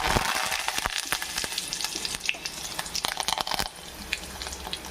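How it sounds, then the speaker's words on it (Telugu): Seeds and curry leaves sizzling and crackling in hot oil while tindora fry is cooked, a steady close spattering with sharp pops throughout, easing slightly near the end. "ఆయిల్ వేడెక్కిందండి, దాంట్లోకి తిరమాత గింజలు వేసేసుకుందాం."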